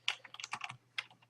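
Keys on a computer keyboard are struck in a quick, close burst of clicks with a short pause, then a few more taps.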